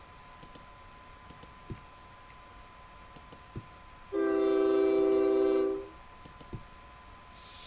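Trains in the video game OpenTTD, with a sustained train horn blast of about two seconds in the middle and scattered mechanical clicks before and after it, no talking.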